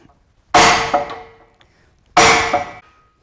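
A cooper hammers a metal hoop down onto a handmade wooden barrel, two loud, ringing metallic strikes a second or so apart, each decaying slowly in a quiet workshop.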